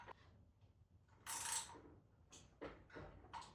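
A wrench works the axle nut on the front wheel of a cheap ORYZEARTH mini bike, giving a few short, quiet metallic ratcheting clicks and scrapes in bursts, close by, with no talking.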